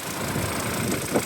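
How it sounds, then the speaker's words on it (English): A 2013 BMW 5 Series M Package idles with its high pressure fuel pump ticking faintly over a steady low engine hum, close and continuous. "it's the high pressure fuel pump that these have"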